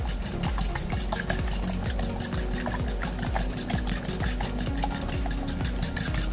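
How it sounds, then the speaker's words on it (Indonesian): Eggs are beaten briskly in a bowl with a fast, steady rhythm of whisk strokes that tick and clink against the sides, continuous and close, with no talking. "Di sini aku kocok lepas dulu telurnya."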